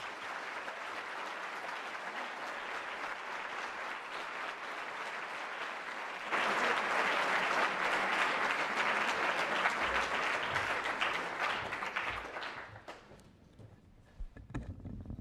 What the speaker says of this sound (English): Would you please now, with your warm applause, welcome the President of the European Commission, Claude Juncker.